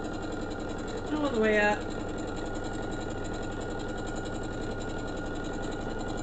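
A sewing machine stitches a Christmas stocking with a steady, close mechanical hum that runs the whole time, while someone briefly speaks over it.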